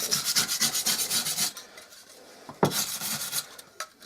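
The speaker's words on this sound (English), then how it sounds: "good idea to just get a wire brush on that and clean it off" A wire brush scrubs built-up grease off the beater bar of a Hoover Senior 652 vacuum cleaner, quick raspy back-and-forth strokes, close and fairly quiet, with a brief pause and a clack partway through.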